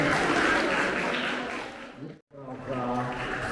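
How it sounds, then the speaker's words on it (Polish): Loud, dense applause from a crowd at a school year-end ceremony for sixth and seventh grades fills the first two seconds, then fades into a brief pause before a voice speaks. "I poproszę, żeby jeszcze raz wielkie brawa, tak?"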